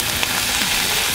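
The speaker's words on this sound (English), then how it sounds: "First, we have to saute the vegetables." One onion and two celery sticks sauté in a pan, giving a brief, even, close hiss of frying with no other sounds.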